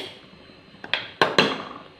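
Metal lid fitted onto a pressure cooker while a mutton curry is cooked: a soft tap followed by two louder metallic clanks close by, with no talking.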